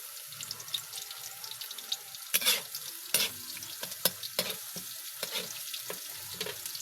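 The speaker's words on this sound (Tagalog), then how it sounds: "Sama natin sa paggisa sa bawang" Garlic and pepper sauté in a pan with a soft steady sizzle, broken by sharp clattering stirs and scrapes of a spatula, close up with no talking.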